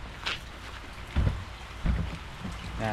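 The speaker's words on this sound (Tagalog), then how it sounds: "inaabot na nga tayo ng lakas ng ulan" Heavy rain falls outdoors beside a garden pond, a steady hissing wash broken by a few low thuds and rumbles.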